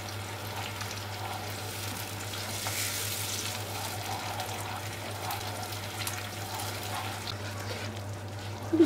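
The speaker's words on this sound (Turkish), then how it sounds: "Şimdi hepsini güzel bir kavuracağım." Ground spices, dried herbs and tomatoes sautéing for a beyti kebab sauce, a soft even sizzle with light stirring and a faint steady hum underneath, no voices.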